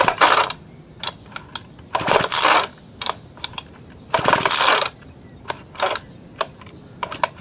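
A hedge trimmer's small petrol engine is cranked by repeated pulls of a slightly faulty recoil starter rope, giving a series of sharp rattling bursts of varying length with mechanical clicks between them and no talk.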